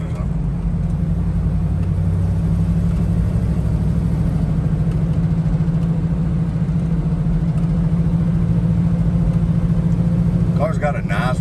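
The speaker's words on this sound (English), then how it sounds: "Car's got a nice rumble to it, not real loud." A 1968 Chevrolet Camaro engine rumbles low and steady from inside the moving car, a continuous deep drone throughout, with someone talking over it.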